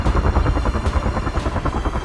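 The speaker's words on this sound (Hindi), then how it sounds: "हेलीकॉप्टर आसमान में पूरा इलाका ढूंढ रहे थे।" A helicopter drones loudly and steadily overhead, its rotor thumping in a fast, continuous pulse with no voices.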